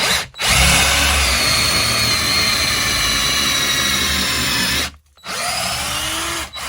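A Parkside PABS 20-Li E6 20V cordless drill whines loudly and steadily while boring a 10 mm hole at speed setting 2, cutting out briefly twice before spinning up again.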